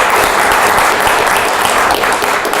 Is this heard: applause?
yes